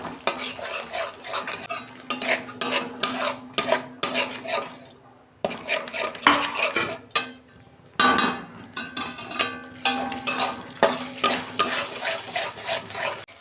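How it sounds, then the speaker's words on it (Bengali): Spice masala with grated tomato stir-fried in a pan for a Bengali fish curry, rhythmic spatula scrapes and clinks against the metal over a soft sizzle, close by with short pauses and no voices. "দু মিনিট আমি মশলাটাকে একটু কষাবো।"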